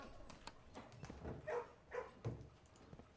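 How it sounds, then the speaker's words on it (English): Several dogs barking in the video game Blue Prince, short repeated barks spread across a few seconds at moderate loudness, with game ambience behind and no speech. "It's a lot of barking dogs."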